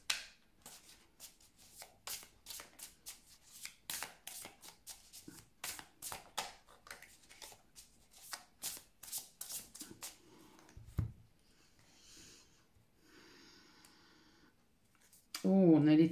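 A tarot deck is shuffled and then cut by hand, making a long run of quick, crisp riffling flicks that stop abruptly, followed by a quiet pause and a brief voice.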